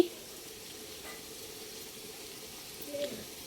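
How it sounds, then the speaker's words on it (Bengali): Roast frying in a pan at home, a soft, steady sizzle at low level with a faint clink or two, no voices over it. "এই তো এখানে আমি রোস্টও ভেজে রাখছি"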